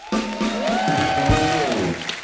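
A studio audience at a comedy show claps loudly for the band's guitarist, with a sustained musical tone running over the applause, which stays fairly strong throughout.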